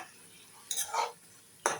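Katla fish pieces stirred with spices in a pan, giving two or three quiet metallic scrapes and clinks of a utensil against the pan over a faint sizzle.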